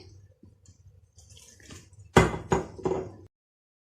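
Water trickles in small pours onto samosa dough in a bowl, faint dripping first, then three louder splashy pours in quick succession before stopping.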